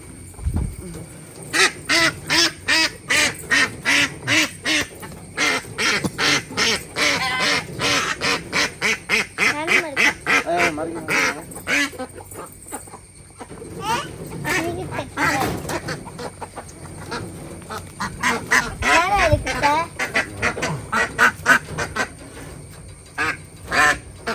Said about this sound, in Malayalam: താറാവ് കുളത്തിൽ ഇറങ്ങുന്നില്ല